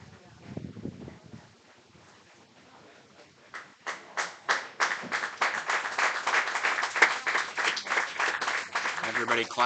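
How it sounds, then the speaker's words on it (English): A crowd at an American Legion baseball game starts clapping for an injured left fielder getting back up, the applause swelling into a steady, moderately distant patter that follows a commentator's voice. "everybody claps"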